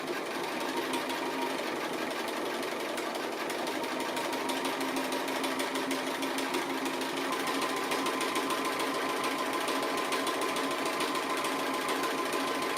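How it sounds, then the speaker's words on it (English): A sewing machine runs steadily for the whole stretch, stitching close around the raw edge of an appliqué piece with a small stitch; the even mechanical whir and rapid needle rhythm never pause, and nobody talks. "I'm actually going to go all the way around close to that edge with a little"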